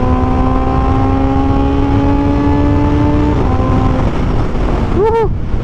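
A Kawasaki ZX4RR motorcycle engine revs through its headers while riding, a loud sustained high-pitched whine rising steadily in pitch under heavy wind noise, with a brief sharp rev flare near the end.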